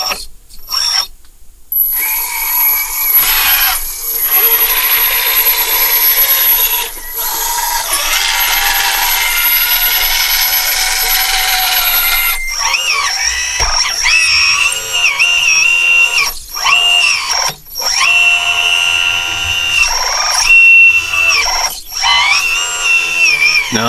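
A Kabolite K963-100 hydraulic construction vehicle works nearby with a steady mechanical whir and a high tone, broken by brief pauses, shifts in pitch and clanking, with no talk.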